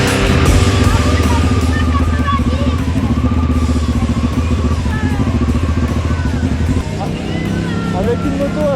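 A motorcycle engine rumbles loudly and continuously close by, with a rough, throbbing low idle and some clatter, while a voice talks over it.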